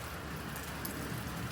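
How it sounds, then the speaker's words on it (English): Steady rain falls on an outdoor homestead beside a chicken coop under construction, a dense, even hiss of drops close by with no talking. "It just started raining again"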